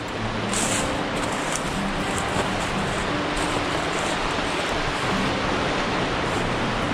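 The Niobrara River rushing through Norden Chute in Nebraska in late February, a steady broadband roar of fast water heard close by, constant and loud with no talking.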